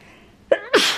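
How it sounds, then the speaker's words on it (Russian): A single close, sharp human sneeze with a brief inhaled catch before the explosive burst. "сейчас чихну."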